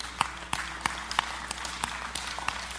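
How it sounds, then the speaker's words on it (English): A church congregation claps in a steady, evenly spaced rhythm, with faint, sharp claps repeating about three times a second. "I know you're clapping"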